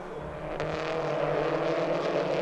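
Peugeot RCZ Racing Cup race cars on slick tyres battle for position at Nogaro circuit, a steady loud engine roar sustained throughout with a brief sharp onset early on.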